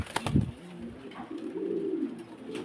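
Pigeons offered for sale coo in low, soft, rolling calls near the mic, with a brief rustle or flutter early on before the steady cooing continues.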